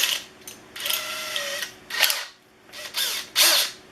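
Power drill boring a pocket hole through wood with a Kreg jig drill bit, several short, loud high-pitched whining bursts separated by brief pauses, heard up close.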